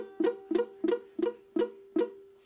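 Ukulele with dead, muted strings, strummed six times in a steady rhythm, each stroke a short, dull, damped thunk with little ring, close and alone.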